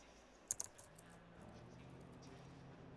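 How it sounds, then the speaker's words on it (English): Clacky computer keyboard typing during a sim-racing session before an online race, a few sharp key clicks near the start followed by softer steady tapping over a low background hum. "sorry if you can hear my my really clacky, annoying keyboard"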